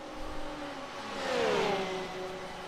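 Simulated GT3 race cars, including Porsches and a Ferrari, whine past in an esports championship race, one engine note rising and sweeping through a pass over a steady hum of other cars.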